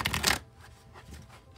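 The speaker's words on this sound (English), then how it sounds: "I will shuffle till I feel like it's ready" A deck of tarot cards is shuffled with one quick burst of riffling, crisp and close, followed by a quiet tail of soft handling noises.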